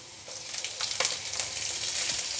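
Hot oil sizzles and crackles steadily as green chillies fry in a pan, a soft hissing texture with a few louder pops, no talking.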